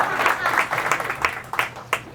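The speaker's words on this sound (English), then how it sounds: "we'll take some applause." Brief, scattered clapping from a small audience at a fireside chat event, a handful of uneven claps that thin out into a few separate sharp hand claps.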